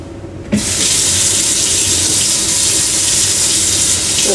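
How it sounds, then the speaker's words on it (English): A kitchen tap gushes suddenly and runs in a loud, steady stream as a utensil is rinsed under it while baking cookies. "Hold on, let me wash it."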